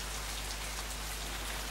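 Steady, dense rain falls on a surface, a continuous close hiss of countless drops with no pauses or voices.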